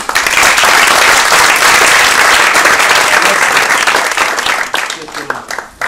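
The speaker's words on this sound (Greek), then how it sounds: "Θέλω να τον χειροκροτήσουμε." Audience at a Greek union federation's 2018 calendar presentation breaks into loud, sustained applause filling the room, holding steady for several seconds before starting to thin out at the end.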